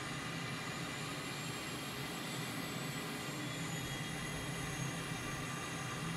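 An M-346 jet trainer's engine in Microsoft Flight Simulator, a steady broad jet roar with a faint high whine, constant and unbroken.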